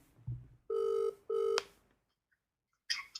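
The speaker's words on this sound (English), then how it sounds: "it's ringing. It's ringing." Two long electronic telephone ring tones, separated by a short pause, followed by silence and a brief click; loud and close.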